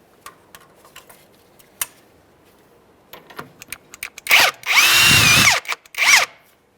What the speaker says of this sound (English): let's go ahead and remove the jam nut from the inner tie rod end